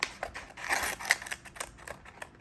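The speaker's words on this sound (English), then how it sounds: "So I might have to use a combination of the blade and scissors." Scissors snipping pages out of a Moleskine notebook, a quiet series of short, crisp paper cuts with brief rustles between them, close and alone.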